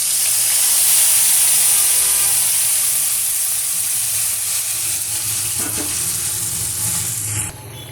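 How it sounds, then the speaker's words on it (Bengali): Bele fish curry with spice paste bubbling and sizzling in a pan, a loud continuous close hiss of frying and steam with light stirring, fading slightly near the end, no voices. "মাছের ঝাল ফুটছে।"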